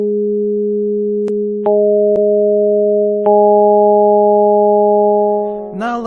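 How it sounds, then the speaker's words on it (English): Sustained FM-style synthesizer tone from Reason's Objekt digital waveguide synth, built from sine waves modulating each other: steady layered pitches with new partials stepping in, then a brief brighter burst as it fades slowly near the end. "this is operating on sine waves that are modulating each other just like an FM synthesizer"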